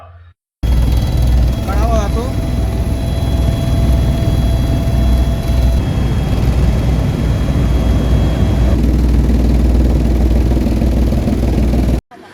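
A loud, steady helicopter engine drones continuously for over ten seconds, close and constant, with voices faintly under the roar, during joyrides at the Rajakkad festival in Kerala.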